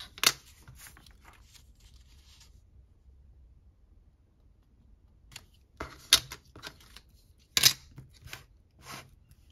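Scissors cut paper from a junk mail envelope for a craft folio, making a few sharp, isolated snips close by with quiet stretches between them.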